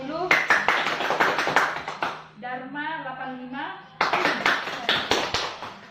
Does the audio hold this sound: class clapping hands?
yes